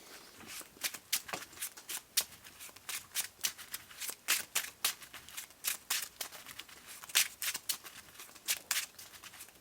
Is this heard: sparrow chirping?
no